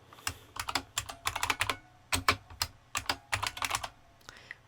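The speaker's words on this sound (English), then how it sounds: "When I type hello world," Fast typing on a computer keyboard: close, clear key clicks come in quick irregular bursts with brief pauses between words, and no other sound intrudes.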